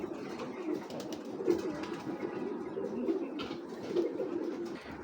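Racing pigeons coo continuously at close range, a steady low throbbing chorus with slight swells in loudness over several seconds.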